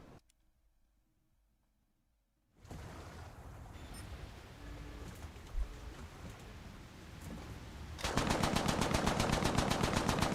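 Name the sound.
7.7 machine guns firing in a video game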